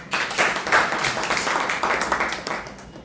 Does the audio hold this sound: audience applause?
yes